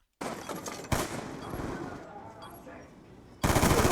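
Rapid-fire gunfire in a video game comes as dense bursts of quick shots, one early burst, then a sustained stretch, and another loud burst at the end, heard up close.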